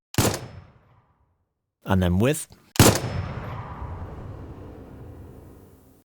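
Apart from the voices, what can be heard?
gunshot sound effect, before and after dynamic grading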